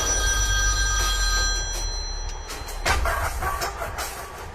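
A telephone bell rings in a domestic setting, a bright trilling ring sounding steadily for a couple of seconds before stopping, followed by faint rustling and room noise.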